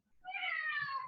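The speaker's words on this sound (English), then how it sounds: "that's my cat meowing" A single drawn-out cat meow, close and clear, rising then tapering off, with no other voices.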